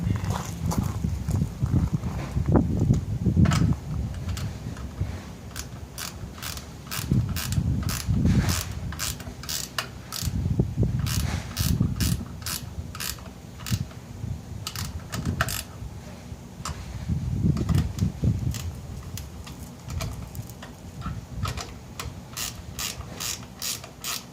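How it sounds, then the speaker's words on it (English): A 10mm ratcheting wrench tightens the tail light studs on a 2017 Carry On trailer, clicking in quick, repeated bursts with short pauses between them, close up, along with low handling thumps and some murmured talk. "I'm going to grab a 10mm wrench and tighten those studs real quick."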